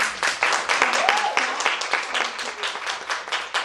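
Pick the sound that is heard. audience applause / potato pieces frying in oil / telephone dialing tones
audience applause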